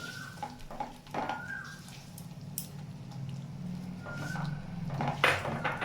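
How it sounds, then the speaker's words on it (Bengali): Beaten egg stirred into a frying dish, with a utensil scraping and clinking against the pan in irregular strokes over a low, quiet sizzle. "ডিমটা এবার আমি এর মধ্যে আস্তে আস্তে দেব আর নাড়তে থাকবো"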